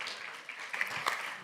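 Applause from an audience at a community anniversary gathering, a dense steady patter of many hands at moderate distance, continuing without a break.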